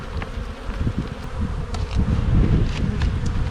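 Honey bees buzz around an opened hive of colonies, a dense close swarm drone with individual bees whizzing past, steady and moderately loud.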